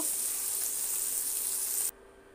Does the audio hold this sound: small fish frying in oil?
yes